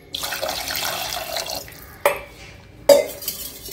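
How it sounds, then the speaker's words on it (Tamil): Water pours into a cooking pot holding mutton bones for a salt curry, a steady splashing rush that stops and then comes back in two short, louder bursts, close by with no talk. "இப்போ இன்னும் கொஞ்சம் தண்ணி ஊற்றிக்கலாம்"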